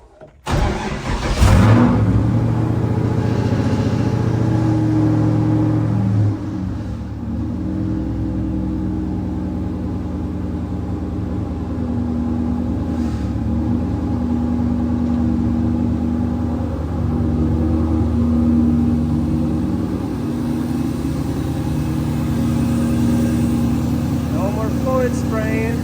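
An LS-swapped Nissan S14 fires up on a dyno, then idles and revs with a loud, deep V8 rumble that holds steady and swells in a few throttle blips; a person talks briefly.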